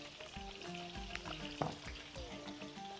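Lamb turned in a hot pan with spices, nutmeg, salt and black pepper, giving a steady close sizzle and frying hiss with soft scrapes and clatters of a utensil stirring through the meat.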